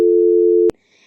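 A steady telephone tone while dialing the children's police: one loud, continuous electronic beep held for most of a second, then cut off abruptly, followed by faint noise.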